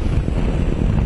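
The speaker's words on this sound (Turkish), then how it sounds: "Şu anda dışarıda hissetmiyor olabilirsiniz ama bayağı bir rüzgar var." Heavy wind buffets the microphone while riding a Mondial RX3i Evo motorcycle, a loud, constant low roar with gusty rumbling and no voices.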